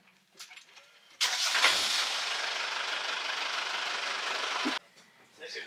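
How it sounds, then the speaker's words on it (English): A sailboat's engine turns over and catches, running steadily at a loud, even idle for about three and a half seconds before cutting out, with faint voices before and after. "Vas-y, allume le moteur."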